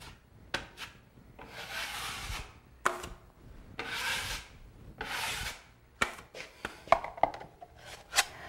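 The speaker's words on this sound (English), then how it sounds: "we also put another thin coat of mud on the screw heads" A drywall knife spreads a thin coat of joint compound over screw heads in repeated scraping strokes, each a second or so long. Sharp taps and clicks of the blade come between the strokes, close and clear.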